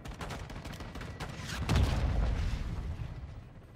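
Air support helicopter strafing in the Call of Duty Modern Warfare 2 campaign: dense, rapid bursts of heavy gunfire with a loud, deep boom rolling in around the middle, sustained and close, then slowly fading, with no voices.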